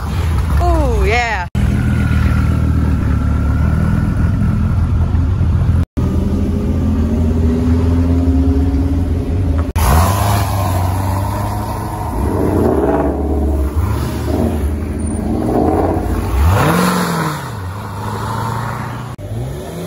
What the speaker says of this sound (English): when the guy revved his Dodge Viper